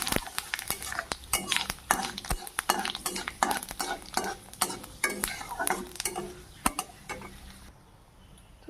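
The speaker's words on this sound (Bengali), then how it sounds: "প্রথমে পুরনের জন্য নিয়ে নিয়েছি এখানে তেজপাতা আর শুকনো লঙ্কা।" Bay leaves and dried red chillies fry in hot oil for a Bengali tempering (phoron): a close, crackling sizzle peppered with sharp clicks and spatula scrapes against the pan, fading out near the end.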